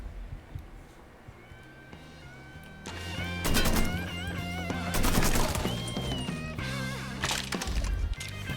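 Gunfire in the video game Mafia 3, bursts of shots in the middle stretch over a tonal music bed, moderately loud, with brief mumbled talk.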